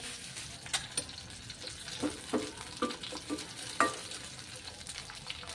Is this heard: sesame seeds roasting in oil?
yes